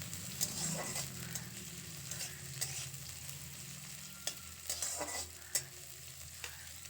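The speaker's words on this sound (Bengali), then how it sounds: "পেঁয়াজগুলো হালকা ভেজে নেব" Sliced onions fry lightly in hot oil with tempered spices for a mixed-vegetable puishak chochori, a soft continuous sizzle broken by the scrape and tap of stirring, close and quiet.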